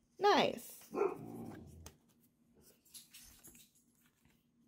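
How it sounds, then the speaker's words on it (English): A dog in the background barks and growls in a short burst at the start, then goes quiet under a person's voice while Pokémon trading card tins are opened. "You may also hear the dog in the background."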